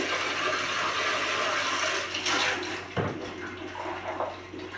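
Black-eyed peas being washed by hand in water, a steady rushing, sloshing wash of water throughout, louder in the first half and easing off later, with no talk.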